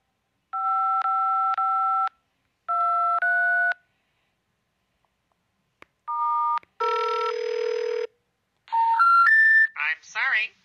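Telephone dialing tones in the Starfall video game: several clear bursts of dual-tone keypad beeps with pauses between, followed by an operator-style tone sequence and a warbling synthetic sound at the end.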